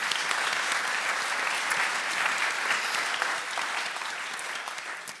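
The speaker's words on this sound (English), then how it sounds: "please give a loud, massive loud applause for this amazing group" Loud, sustained applause fills a hall as an audience cheers a group on stage at a feminist climate finance academy finale, a dense wash of clapping that stays steady before tapering slightly near the end.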